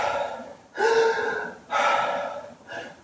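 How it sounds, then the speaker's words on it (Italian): Heavy rapid breathing demonstrating hyperventilation at a lecture, three loud forceful gasping breaths close to the microphone in an uneven rhythm, with no talk over them. "Se in questo momento comincio a ventilare in maniera continua e spropositata"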